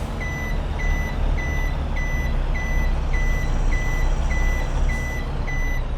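Reversing truck with a trailer in Farming Simulator 22, its backup alarm beeping in a steady evenly spaced rhythm, about ten beeps, over a constant loud diesel engine drone.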